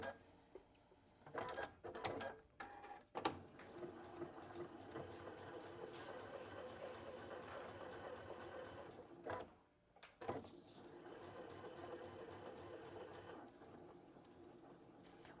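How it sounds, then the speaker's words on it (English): A sewing machine stitches fabric for butterflies in rapid, steady mechanical bursts, starting and stopping a few times with short pauses between runs, close and fairly faint. "now let's go ahead and stitch this"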